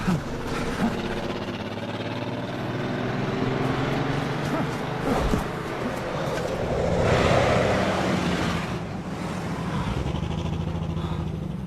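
Cars driving past in an animated movie scene, a continuous rumbling engine and road roar that swells and fades as vehicles pass, with no clear talk.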